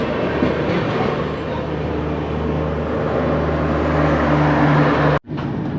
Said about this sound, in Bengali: বারেলি থেকে ট্রেনটা কিন্তু একেবারে টাইমেই ছাড়লো।